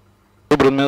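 A Husky light aircraft's engine bursts in suddenly and loudly after a near-silent start, a dense broadband roar that swells as it throttles up for a flaps-up takeoff.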